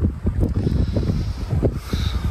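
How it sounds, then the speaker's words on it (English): Steady low rumbling wind buffeting the microphone, gusting continuously throughout with no voices. "It's still just as windy."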